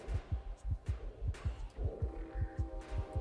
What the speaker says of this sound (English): that heartbeat is the sound of my life dying